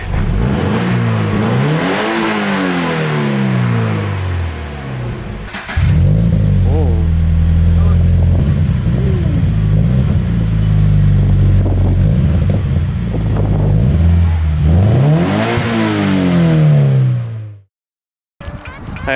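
A Scion FR-S with an Invidia N1 exhaust revs up and down through several loud sweeps, settling into a throaty idle between pulls before cutting off near the end.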